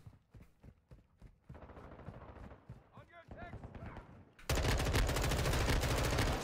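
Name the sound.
gunfire in video game Modern Warfare 2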